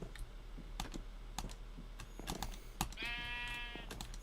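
A single wavering sheep bleat from Minecraft sounds briefly near the end, set among rapid clicks and taps of keyboard typing that run throughout.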